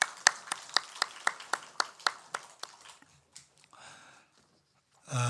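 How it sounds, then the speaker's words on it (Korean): A church congregation at a Sunday worship service claps in blessing, a run of distinct claps in a steady rhythm that thins out and fades before a louder sound at the end. "축복의 박수 하십시다"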